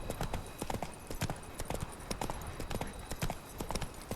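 A horse gallops steadily in The Witcher 3: Wild Hunt, a rapid, even drumming of hoofbeats at moderate volume with a faint neigh, continuous across the whole stretch.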